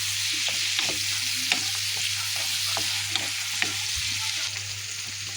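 Shrimp sizzles with spices in a hot pan, a steady bright frying hiss with occasional scrapes and clicks of a stirring spoon, close and continuous without talk.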